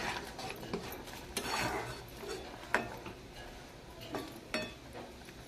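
A spoon stirs mango dal in a cooking pot, giving quiet, sporadic metallic clinks and scrapes against the pot's side with soft pauses between strokes.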